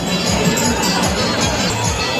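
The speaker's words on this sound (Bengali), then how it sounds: "ভিড়টা দেখুন কি পরিমাণ এখানে ভিড়।" A dense crowd fills Howrah Bridge during a Holi procession, a steady, close wash of mingled voices and hubbub with no single speaker standing out.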